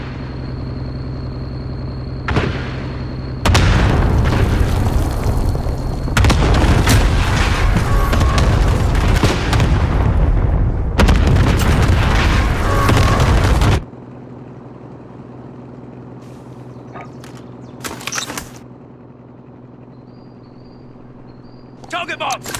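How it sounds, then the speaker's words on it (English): Cluster strike explosions in Call of Duty: Modern Warfare, dropped on an IAV: a loud, continuous rumbling barrage of blasts lasts about ten seconds, then fades to quiet ambience with a few scattered smaller bangs. "Cluster strike incoming. Take cover."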